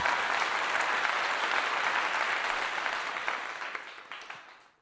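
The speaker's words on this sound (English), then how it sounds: "Let me give you a clap for that statement." Audience applause at a live event in Philadelphia, a dense, steady wash of many hands clapping at full strength, then gradually thinning and fading away over the last second or two.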